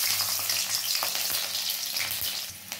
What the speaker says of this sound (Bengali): এবার দিয়ে দেবো এই যে রসুন ফোড়ন